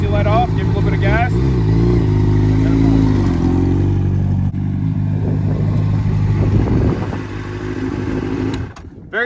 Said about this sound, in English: First gear is down, easy let off, give it a little bit of gas.